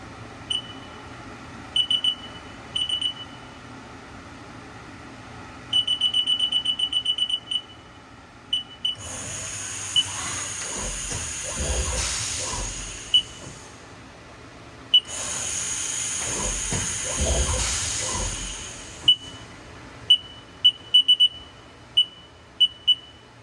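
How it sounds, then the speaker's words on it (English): A 2016 Haas VF-3SS CNC vertical machining center with a new spindle fan runs its spindle up to 12,000 rpm: two loud broadband whirring runs of several seconds each, with electronic beeps and short machine bursts in between. "We're gonna run the spindle, do some tool changes."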